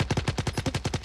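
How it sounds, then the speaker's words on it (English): Rapid automatic gunfire from a tactical shooter video game during an esports tournament match at a bomb site, a steady burst of about a dozen evenly spaced shots, loud and close with no talk over it. "The gunfire is underway."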